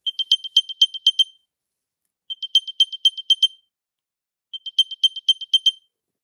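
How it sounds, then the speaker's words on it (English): An Apple AirPods Pro 3 charging case sounds its find-my-case alert: three loud, clear bursts of rapid high chirping beeps, each about a second long, separated by short silences. "Hear that? That's what the AirPods sounds like."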